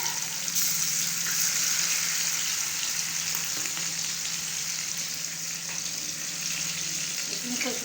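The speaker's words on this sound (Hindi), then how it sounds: "इतनी मज़े की तली जा रही है" Fish pakora pieces deep-frying in hot oil, giving a dense continuous bubbling sizzle, close and even in level for several seconds, with no voices.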